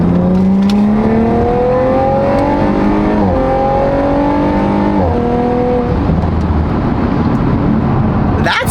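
A Corvette engine revs hard up through the gears, its pitch climbing and dropping sharply at each quick, smooth shift, loud and close with no talk.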